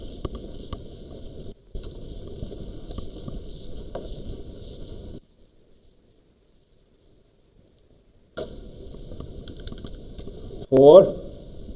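An eraser wipes a board in two long stretches of rapid, rhythmic scrubbing and tapping, close and steady, with a quiet pause between them and a louder scrape at the end.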